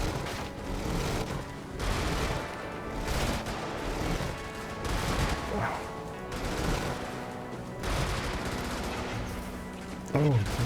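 Turret gunfire in the mech combat game Brigador, heard at night: dense, loud bursts of automatic shots and impacts that keep rolling almost continuously, with a sharp blast near the end.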